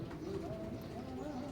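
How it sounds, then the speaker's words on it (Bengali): Oman bloodline teddy pigeons coo softly, with low, wavering calls over steady background noise. "তো ভিউয়ার্স, ভালো করে দেখেন কবুতর জোড়া"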